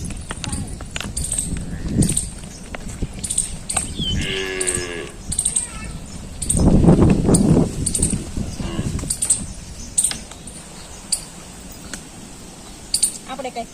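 A cow lets out a couple of low moos amid farmyard noise, with people talking nearby and scattered clicks and knocks.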